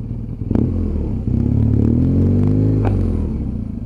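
A BMW 1200GS motorcycle is ridden on a test ride, its engine note droning steadily and loud as it climbs and settles, with wind rumble and a couple of sharp clicks and clatters.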